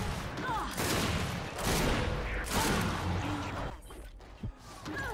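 Rapid gunfire and heavy impacts in a Gears 5 ranked Control match, loud sustained bursts filling the whole stretch and easing toward the end.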